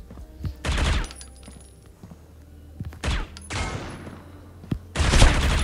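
Bursts of sniper and automatic gunfire from a Critical Ops match, four loud broadband blasts spaced roughly a second apart, with softer in-game ambience and distant shots between them.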